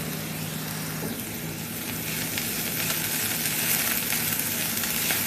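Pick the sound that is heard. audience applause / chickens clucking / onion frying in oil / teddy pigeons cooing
onion frying in oil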